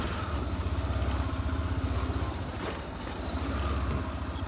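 A motorcycle engine runs with a steady pulsing mid-range drone as the bike pulls away in first and second gear during a braking test, fairly close and without talk.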